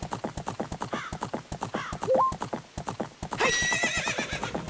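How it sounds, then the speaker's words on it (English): Epona, the horse from The Legend of Zelda games, lets out a rising neigh among steady rhythmic hoof clip-clops, then a louder, longer whinny near the end, all close and clear with no talking. "your horse Epona is another sort of companion"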